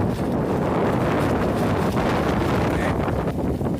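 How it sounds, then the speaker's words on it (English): Strong wind roars and buffets continuously at a primitive campsite, with heavy microphone wind noise masking any flapping of the tarp. "Hopefully this tarp will break the wind tonight."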